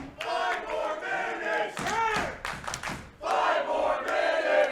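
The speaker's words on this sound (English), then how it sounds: "The crowd chanting 5 more minutes." A wrestling crowd at a GSW Global Festival match between Josh Alexander and Davey Richards chants in unison, loud rhythmic group voices with a short break before the chant swells again.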